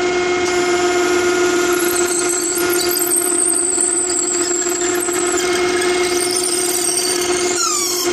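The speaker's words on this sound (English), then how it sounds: "So let's ream." Reamer cutting a cast iron valve guide for a Locomobile restoration, a sustained high tonal squeal with steady machine hum running continuously, close and loud.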